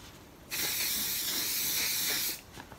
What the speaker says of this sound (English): And then add a bit of spray.